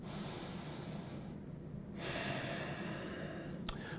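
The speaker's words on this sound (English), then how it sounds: "I'm going to put my shoulders and my head against the wall, and I'm going to take some deep breaths." A person standing with shoulders and head against a wall takes deep, slow breaths, close and audible, with a long inhale, a brief pause, then a steady exhale.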